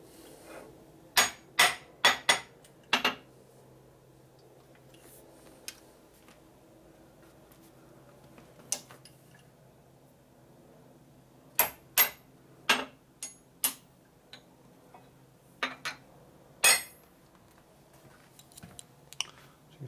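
Hammer blows strike a part on a 1980 Harley-Davidson shovelhead engine during a top-end rebuild, arriving as sharp metallic hits in quick clusters with pauses between, close and alone.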